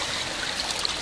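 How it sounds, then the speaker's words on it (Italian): Floodwater after a violent rainstorm, about half a metre of water and mud, draining through the gates of a public park in Foggia; a steady, close rushing stream with no voices. "Man mano l'acqua adesso sta defluendo attraverso i cancelli, ovviamente filtrata dal fango."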